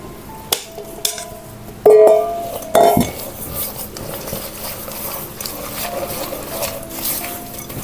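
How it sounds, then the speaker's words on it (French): Two eggs being whisked in a bowl for a chocolate walnut cake, with a few sharp clinks of utensil on bowl, then a quick, rhythmic metallic tapping that keeps going close up. "je fouette mes œufs que je vais ajouter à mon mélange"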